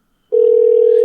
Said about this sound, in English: Hell yeah, we got ringing.